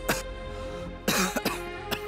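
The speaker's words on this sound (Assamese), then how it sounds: "কি হ'ল ইমান কাহিছ কিয়" A person coughs in a few short, sharp bursts, one early and a cluster later, close and fairly loud, with indoor background noise between them.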